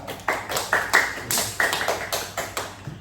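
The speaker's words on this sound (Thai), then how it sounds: "ปรบมือให้ตนเองครับ" Students clapping for themselves in a Thai primary school history lesson, a rhythmic pattern of about eight sharp, fairly close claps spread evenly over three seconds.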